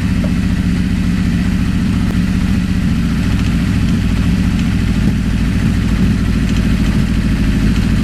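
A 1980 Honda CB650 motorcycle idles on choke, its engine holding a steady, loud low-pitched rumble with a fast even pulse and no pauses or revving throughout.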